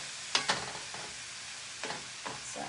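Mushrooms sauté in a crowded pan with a white bean dip in progress, a soft steady sizzle broken by a few brief scraping stirs.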